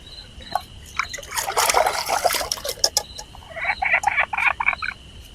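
Frogs croaking at night at a forest campsite in Kerala, loose bursts of rapid croaks and chirps coming and going over a quiet background, with faint trickling water and no talk.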